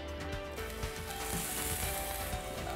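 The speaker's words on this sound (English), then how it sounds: "A little bit of oil goes in the pan. Fantastic, it's fantastic. All right, we're gonna throw the onions in first." Onions hiss and sizzle in hot oil in a skillet, a steady close crackle that holds without a break and with no talking.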